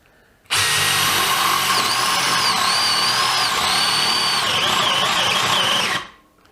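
A DEWALT DCD701 12V brushless drill runs in second speed, giving one continuous, loud, close whine for about five and a half seconds, its pitch wavering and dipping slightly under load before it cuts off.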